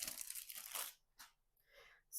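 Plastic wrapping being torn and crinkled off Flame Boss 500 smoker mount parts, a rigid block and housing plates, in two close bursts separated by a short pause.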